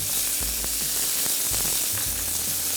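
A steak sears in a hot pan with butter, giving a steady bright sizzle and crackle throughout, with a few low thumps and bumps from the pan underneath.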